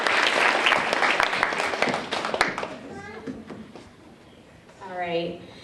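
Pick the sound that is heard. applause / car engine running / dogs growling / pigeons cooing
applause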